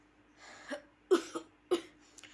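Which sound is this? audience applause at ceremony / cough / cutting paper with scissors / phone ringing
cough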